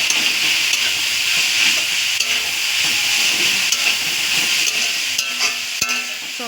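Vegetables and carrots frying in a pan for homemade chowmein give a loud, continuous hiss and sizzle with occasional stirring clicks throughout.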